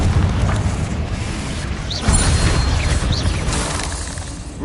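A Confringo fire spell blast in Hogwarts Legacy lands in a dense, loud battle mix, with booming impacts and shattering crashes around the middle and a continuous roar of combat throughout.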